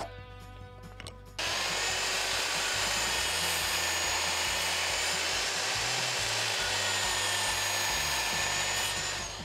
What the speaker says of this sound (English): I use a circular saw to get a straight square cut first